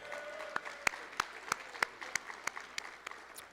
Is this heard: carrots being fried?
no